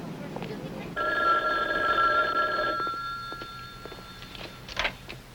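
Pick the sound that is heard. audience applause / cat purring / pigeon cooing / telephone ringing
telephone ringing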